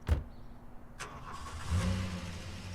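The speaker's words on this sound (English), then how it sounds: "and I'm getting in my car" A car in Los Angeles at 5 a.m. starting up: a thump and a brief crank, then the engine catches and settles into a low, steady idle that swells slightly as it pulls away, close by, no talking.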